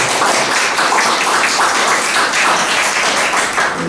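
Sustained applause from a seminar audience fills the room, a dense, even wash of many hands clapping at close range for several seconds, with no voices over it.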